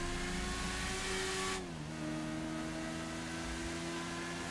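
A car engine in a video game drones at high speed, a steady tonal hum that drops in pitch as the gear shifts partway through, then holds a lower sustained whine, moderately loud with no talk.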